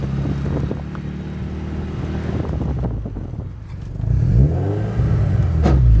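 A light, old Volkswagen car with no power steering drives along, its engine droning and then revving louder near the end, with wind buffeting the microphone and no speech.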